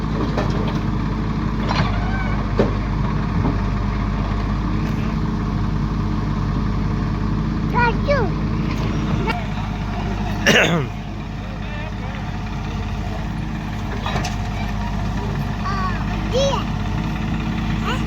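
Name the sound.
tractor engine running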